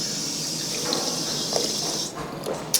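A drinking water fountain runs with a steady hiss of flowing water, a few small splashes and gurgles near the end, close up and alone.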